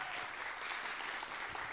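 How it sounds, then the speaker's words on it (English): Brief burst of steady clapping from a crowd, dense and even throughout, with no voices over it. "Can we give Krista's family a big round of applause"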